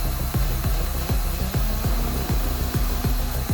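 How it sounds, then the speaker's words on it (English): A Lego vacuum-powered piston engine runs with a fast, regular mechanical clatter, its rapid rhythmic knocks evenly spaced and loud throughout, close and alone. "Let's run it. Here the RPM increase."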